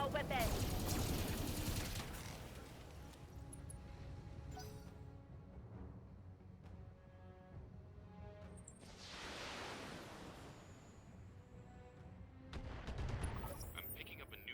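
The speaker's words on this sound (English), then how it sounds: "Firing all weapons." Mech weapons fire in the BattleTech video game, a dense volley of blasts and gunfire opening loudly, then rolling bursts and rumbles that swell again near the end, with voices talking over parts of it.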